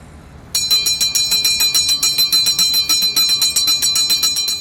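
A loud electric school bell rings continuously after a brief quiet start, its rapid metallic strikes pulsing steadily until the end, marking the first day of school at a lyceum in Kharkiv.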